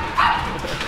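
A quality breeding dog named Bam Bam gives a single short, loud bark up close, with no talk over it.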